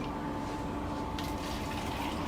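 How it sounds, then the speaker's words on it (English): Tap water poured out of a container, a steady close splashing and trickling flow that runs evenly without pause for the full stretch, with no voices over it. "we can even pour some of that out to give our viewers a better view"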